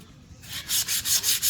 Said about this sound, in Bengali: ফার্স্ট জোড়াটা আনার পরে কয়েকটা ঘষা দিবেন, আমি ঘষা দিচ্ছি